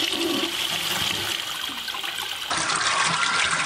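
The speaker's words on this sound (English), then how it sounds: "ensure that you do not flush the water closet or the unit unnecessarily" Water closet flushing into a biodigester system, a steady loud rush and gurgle of water close by, continuing throughout with no talking.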